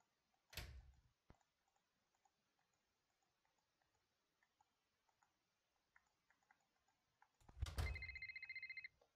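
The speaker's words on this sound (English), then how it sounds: "Phone ringing." Telephone ringing in the Nancy Drew game The Captive Curse, two separate bursts of electronic ring near the start and end of a quiet stretch with faint ticks and taps between, no voices.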